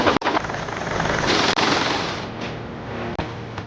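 A navy helicopter runs loud and continuous during a ship landing exercise, its dense rotor and engine roar broken by a few brief dropouts.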